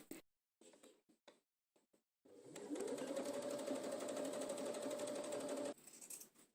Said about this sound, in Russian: Можно предварительно сделать разметку и по ней прокладывать строчку.